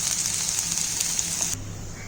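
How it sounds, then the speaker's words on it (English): Finely chopped garlic, chilies and ginger sauté in a hot pan, a close, bright sizzling hiss that drops off abruptly near the end. "garlic, chilies and ginger finely chopped. And we'll saute it for 10 to 15 seconds."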